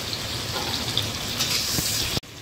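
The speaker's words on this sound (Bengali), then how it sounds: "ঝিঙ্গা আলুটাকে একটু ভাজা ভাজি, একটু অল্প সামান্য ভাজা করে নিই।" Ridge gourd and potato fry in oil in a pan, giving a continuous crackling sizzle at moderate level that cuts off abruptly just before the end.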